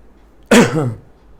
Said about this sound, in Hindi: मेरे को सच में खांसी हो गई